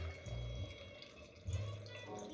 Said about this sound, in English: Here's my aerated wine coming on down.